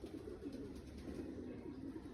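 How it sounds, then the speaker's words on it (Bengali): Top-quality domestic male pigeons coo softly and steadily in a loft, a faint low continuous murmur of coos with no talk. "টপ কোয়ালিটির কবুতর, কোনো নর্মাল কবুতরও না।"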